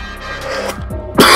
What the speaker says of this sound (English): Oh, I do apologise about the cough